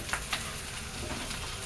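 Sesame seeds frying with sugar in a frying pan over low heat, giving a steady close sizzle with a couple of sharp crackles and light stirring scrapes.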